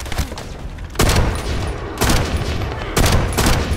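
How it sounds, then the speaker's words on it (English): Heavy gunfire in The First Descendant, dense continuous bursts with strong impacts roughly once a second, loud and close. "That stopped the gunfire."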